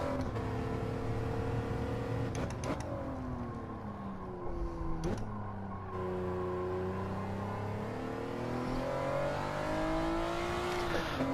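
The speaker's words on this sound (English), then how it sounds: "It's pretty much revving the engine out." A non-turbo race car's engine revs hard on a time trial lap, its pitch climbing and falling through gear changes in one continuous, close drone.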